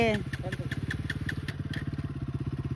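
A motorcycle engine, from a tug-of-war contest between an NS 200 and a Pulsar 150, starts and settles into a steady, rapid idle thump, close and continuous, with voices talking over it.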